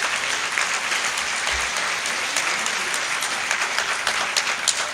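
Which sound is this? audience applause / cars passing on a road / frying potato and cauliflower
audience applause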